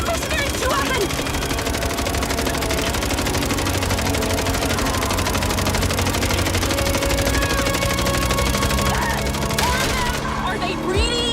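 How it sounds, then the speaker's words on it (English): Sustained automatic gunfire from a machine gun in the video game MINDSEYE, loud and dense, with bursts and scattered impacts layered over a busy combat soundscape and background music. "you don't hear about Saint firing machine guns at mercenaries too often"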